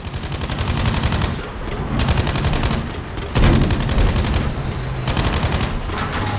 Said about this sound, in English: They just keep launching artillery at us.